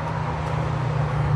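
A steady roar of highway traffic rumbles close by while someone walks alongside the road, with a continuous low engine and tyre drone and no clear breaks.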